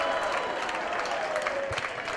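Wrestling arena crowd at a Rob Van Dam match cheering and applauding, a steady dense roar of clapping and voices filling the space throughout, with a few sharper claps and shouts standing out.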